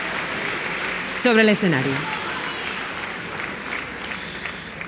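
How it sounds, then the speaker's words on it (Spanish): Audience applause at a rondalla contest in Canarias, a steady broadband wash of clapping running throughout, with a voice speaking over it near the start. "Un aplauso para todos ellos"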